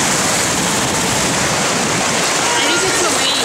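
Ocean surf breaking on a beach rushes in a loud, steady wash of noise that fills the whole moment, close and continuous without distinct breaks.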